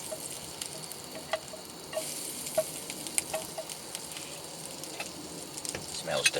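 Garlic butter sizzles softly in a frying pan with a quiet, steady hiss and occasional light pops and ticks, no talk over it.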